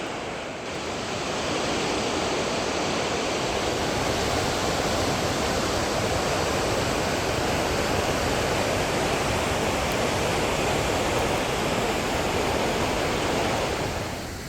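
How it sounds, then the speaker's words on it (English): A waterfall on a forest hike in Mount Rainier National Park roars with dense, continuous rushing water, loud and steady from start to finish with no voices. "there is the waterfall"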